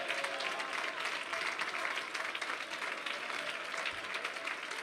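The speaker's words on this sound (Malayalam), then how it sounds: "Come on, കൈയടിക്കുന്നവർ നേരെ കൈയടിക്ക്" A church congregation applauds at a Malayalam Christian service, a sustained, even crowd clapping that fills the whole stretch at moderate distance with no voice over it.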